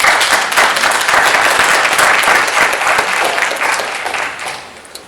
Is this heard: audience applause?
yes